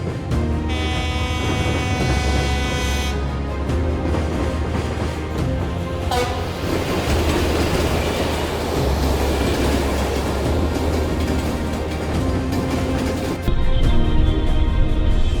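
A train rolls past on railway tracks, loud and close, with a continuous rumble, rhythmic wheel clatter and a high squeal of wheels, growing heavier toward the end, with no one speaking.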